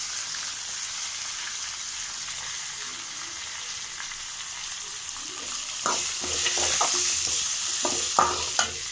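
Onions sautéing in a pan for shark fish scramble, a steady close sizzle that gains clattering scrapes and knocks of stirring in the second half, with no voices.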